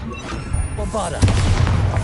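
Bombarda spell explosion in Hogwarts Legacy on PS5, a loud booming blast with crashing debris layered over busy game noise and a voice, filling the whole moment.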